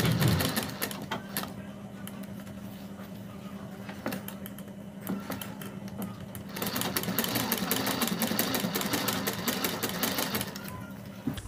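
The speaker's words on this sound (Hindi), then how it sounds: "और अब हमें यहाँ पर 1/2 इंच पर सिलाई लगानी है।" A sewing machine stitches a kurti neck line at half an inch over buckram, running in steady rapid bursts with short pauses between runs, close and alone.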